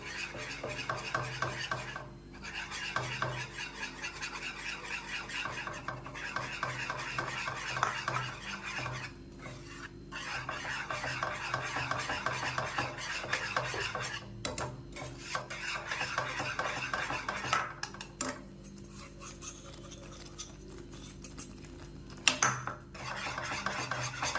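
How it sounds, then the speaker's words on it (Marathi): Flour mixture for masvadi being stirred in a pan, a continuous scraping and rubbing of a spoon against the metal, with short pauses, close and fairly quiet, with no talking. "असं एकसारखं आपल्याला हे पीठ हटवून घ्यायचं आहे"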